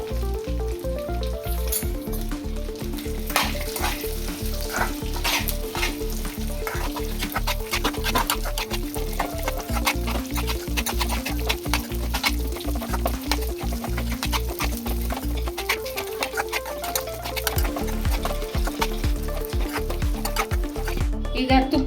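Almonds, cashews and raisins fry in ghee with a continuous crackling sizzle, punctuated by frequent sharp scraping stir strokes against the pan throughout, fairly close and loud.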